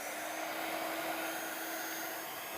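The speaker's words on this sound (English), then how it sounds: "Holding that heat gun still until that embossing powder melts and changes" Heat gun melting embossing powder on acetate for a princess dress card, giving a continuous, close fan-and-air roar that holds steady throughout with no talking.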